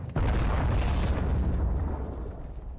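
Airstrike explosions in the video game Modern Warfare 2 hit as one loud, deep boom, followed by a sustained rumbling roar that slowly fades over a few seconds, close and dominant.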